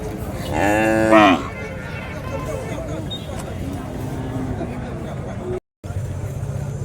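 Bulls at a cattle market in Tiruppattur district, with one loud, drawn-out moo near the start, followed by a steady din of market chatter and crowd noise.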